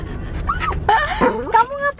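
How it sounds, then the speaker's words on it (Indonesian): A dog yips, whimpers and gives short whining barks close by, in an excited, rising-and-falling sequence with a brief voice underneath. "Kamu ngapa gonggongnya orang itu gak ada salah Olaf."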